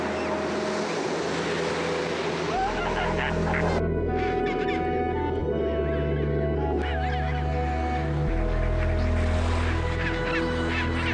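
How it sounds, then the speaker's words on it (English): A dense chorus of chinstrap penguins on an Antarctic beach beside their coastal nest sites, honking and braying together for the whole stretch, loud and continuous, with many overlapping calls and no talking. "an endless trek of birds, in this case chin straps, going to or from the sea or their nest sites"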